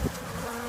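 A honeybee swarm hums steadily at close range, a dense, even drone from hundreds of gentle bees clustered around a hand, with a brief low thump at the start.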